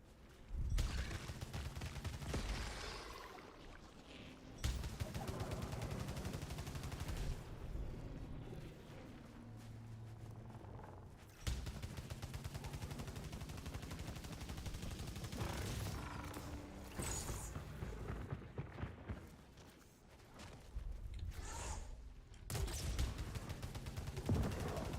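Dense, sustained gunfire from the video game Returnal, with rapid bursts and heavy blasts running nearly continuously at high volume, broken only by brief dips.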